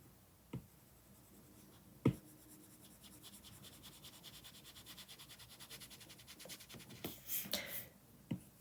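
A shader pencil stylus scratches across a tablet screen while drawing in Procreate, making soft intermittent strokes with a few sharper taps, close and quiet with no talk.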